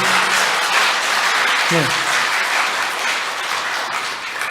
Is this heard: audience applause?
yes